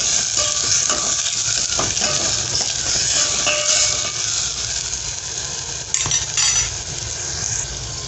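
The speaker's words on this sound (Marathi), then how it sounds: "आणि याला व्यवस्थित मिक्स करून घ्यायचं." Tomato is stirred into a sizzling masoor dal tempering in a pan, with a loud steady frying hiss and repeated metallic scrapes and clinks of the spoon, close and without speech.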